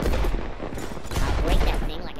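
Cluster bomb MK2 explosions in the artillery game Worms W.M.D, a dense run of loud, overlapping blasts and crackling bursts filling about two seconds, mixed with game sound effects.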